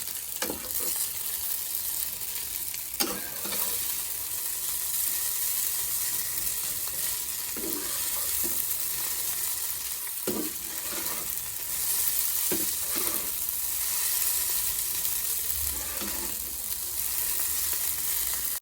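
Chowmein with carrot and capsicum is stir-fried in a pan: a steady, close sizzle runs throughout, broken by irregular scraping stirs, with no talking.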